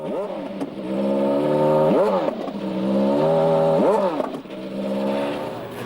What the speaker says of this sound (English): the quiet was broken by the rasp of a racing V8.